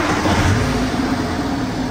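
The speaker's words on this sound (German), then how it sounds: "Wir starten den Motor" A BMW N47/N57 diesel car engine running steadily nearby after a repaired alternator, a continuous low rumble with a slight rev, no talking.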